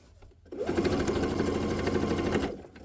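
A sewing machine runs steadily for about two seconds while stitching a quilt block pillow, the motor whirring and needle chattering in a fast even rhythm, starting and stopping cleanly and heard up close with no voices.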